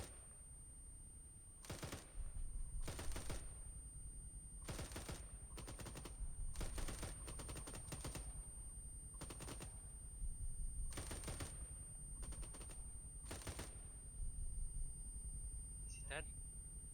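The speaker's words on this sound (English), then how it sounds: "I hear the shots, but I don't see the tracers." Repeated bursts of automatic gunfire in ArmA 3 at varied distances, each volley a sharp rattling cluster separated by short pauses, loud and steady over a constant background hum.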